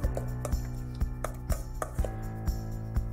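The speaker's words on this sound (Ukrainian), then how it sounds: "Тепер перемішуємо салат." Salad being tossed and mixed in a bowl, giving a steady series of soft, close knocks and clatters roughly every half second, with no talk.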